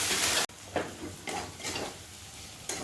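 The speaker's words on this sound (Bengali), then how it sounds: "একটু মশলাটা ভালো করে আমি কষে নিই।" Chili, cumin and coriander spices frying and being stirred for matar ghugni, a loud initial sizzle cutting off, then softer crackling with intermittent scraping stir strokes and utensil clinks, no voices.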